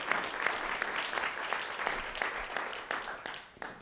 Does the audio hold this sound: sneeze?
no